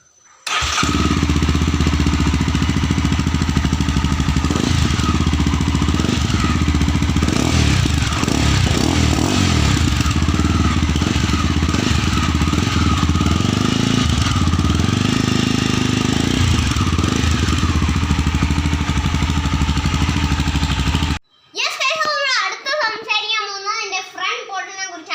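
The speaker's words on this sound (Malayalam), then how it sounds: "സൈലൻസറിനെ കുറിച്ച് പറയുകയാണെങ്കിൽ ഒരു യുണീക്ക് സൗണ്ട്, പിന്നെ എപ്പോഴും ഒരു സൂപ്പർ ബൈക്കിന്റെ സൗണ്ട് ഒക്കെ ചെയ്യുന്നുണ്ട്." A Mahindra Mojo BS4 motorcycle engine and exhaust run loud and close in a steady, continuous roar for about twenty seconds, then cut off abruptly, followed by a few seconds of talking.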